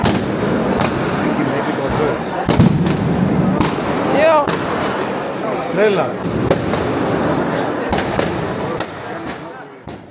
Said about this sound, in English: the sky explodes with fireworks and firecrackers to represent an earthquake as Jesus rises from the dead